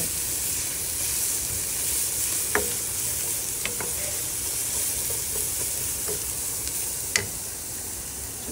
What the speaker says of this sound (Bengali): এইভাবে ঘন ঘন নাড়তে হবে।